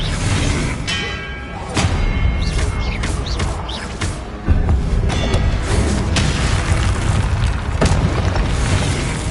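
Confringo explosive spells blast in Hogwarts Legacy, a dense series of heavy booms and thuds layered over loud, continuous battle noise, with sharp impacts landing every second or so.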